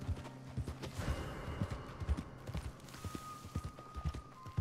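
Rhythmic clip-clop of horse hooves trotting steadily in Red Dead Redemption 2 on PS4, close and fairly loud, with creaking and a faint background tone.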